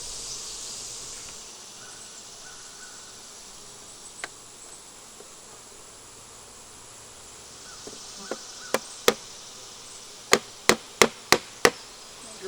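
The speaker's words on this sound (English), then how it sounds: "See if the bees take to it, see if they can figure out the way in." Honey bees buzz around a hive entrance fitted with a small hive beetle guard, a soft continuous drone, then a run of sharp evenly spaced knocks or taps near the end.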